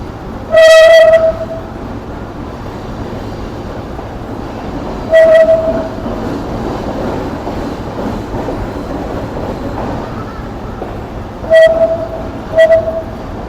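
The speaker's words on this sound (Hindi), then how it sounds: "train finally Sukkur railway station के प्लेटफॉर्म नंबर 1 पर अप्रोच बना रही है" A train pulls into platform 1 at Sukkur railway station in heavy winter fog, sounding several loud horn blasts, one long, one mid-length and two short near the end, over a steady rumble of rolling wagons.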